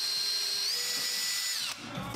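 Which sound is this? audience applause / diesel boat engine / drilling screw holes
drilling screw holes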